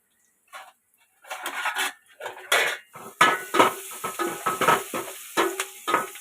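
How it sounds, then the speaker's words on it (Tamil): A spoon scrapes and clanks against a pan as turmeric powder is stirred into fish curry masala, with repeated close metallic strokes and a faint sizzle. "மஞ்சள் பொடி சேர்த்துட்டு ஒரு கிண்டி விட்டுருவோம்."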